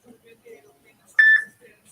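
A phone gives a short, shrill electronic beep, a steady tone lasting about a quarter second that briefly repeats, standing out alone in an otherwise quiet room.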